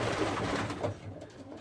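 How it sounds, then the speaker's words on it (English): Andalusian toy stencil pigeons, skittish hens in a freshly pressure-washed loft, coo softly in overlapping low murmurs with a faint flutter of movement and no voices. "the birds are a little bit spooked at the moment"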